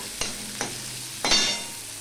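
Onion and green chili go into a hot pan for tempering dal, giving three quick bursts of frying and stirring, the last the loudest and longest, over a low steady sizzle with no talking.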